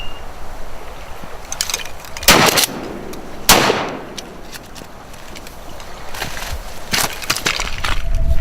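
Shotgun blasts while duck hunting for mallards, two sharp close reports a second apart followed by faint, more distant shots, over quiet outdoor ambience.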